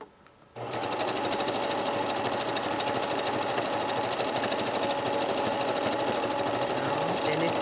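A sewing machine runs fast and continuously while stitching front darts on a jacket, starting abruptly after a short quiet moment and holding a dense, even rattle close by, with a voice talking over it.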